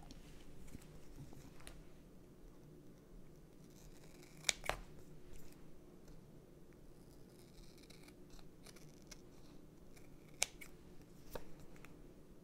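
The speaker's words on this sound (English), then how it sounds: "now you can trim up the edges" Scissors trim the edges of a homemade reusable vinyl mesh stencil, giving faint, soft snips and scratchy cutting sounds. A few sharper clicks stand out over a quiet, steady room background, with no talking.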